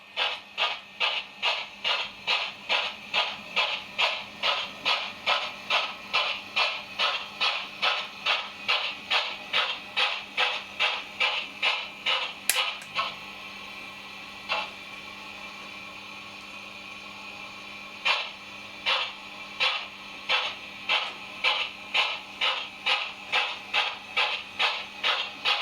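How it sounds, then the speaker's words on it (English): A Hornby R3300 "Winston Churchill" model steam locomotive chuffs in a fast, regular beat on tight radius track, pausing midway with a few isolated clicks before the rhythmic puffing resumes, no one talking. "it's probably the best sounding steam locomotive I've got"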